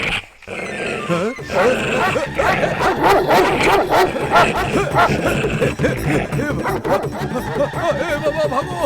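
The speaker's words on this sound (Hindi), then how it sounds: "तुम्हारे बेटे ने और तुमने मिलकर मेरे ऊपर कुत्ता छोड़ दिया।" A dog barks and yips repeatedly after being set loose on a man, its barks dense and continuous under overlapping dialogue and background music in a dubbed Hindi thriller scene.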